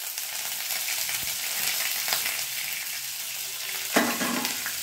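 Chopped onion with curry leaves frying in a pan of hot oil for a Tamil turkey berry gravy, a steady close sizzle running throughout with a sharper burst of crackle near the end.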